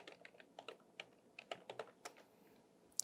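Quick, uneven keystrokes on a computer keyboard, a scattered run of light clicks with a sharper tap near the end, close and quiet with no talking.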